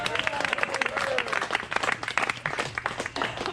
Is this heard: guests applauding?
yes